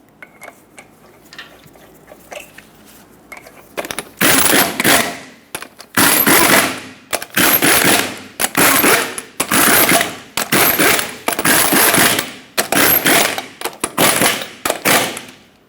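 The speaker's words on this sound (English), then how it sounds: "And then also in a cross pattern, we're going to torque them to 148 foot-pounds." Lug nuts on a 2000-2005 Ford Excursion wheel are tightened in a cross pattern with a wrench; after a quiet start come about eight loud, close bursts of rapid clattering, each lasting about a second, separated by short pauses.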